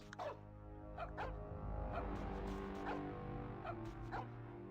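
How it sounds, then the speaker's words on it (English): Barking from a dog in an N64 video game, a series of short repeated woofs and yips spaced across the moment over a steady game soundtrack. "Eventually the dog gets upgraded into a tank dog."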